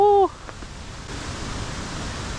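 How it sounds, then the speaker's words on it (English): A waterfall gives a steady broadband rush, a moderately loud continuous roar that begins after a brief tonal sound at the very start and holds evenly to the end. "Waterfall here, I can hear."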